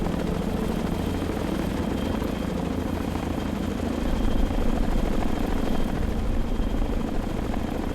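In the naval game Sea Power, a Chinook helicopter is in flight, a continuous heavy rotor-and-turbine roar held at a constant level, swelling slightly louder partway through, with no talking.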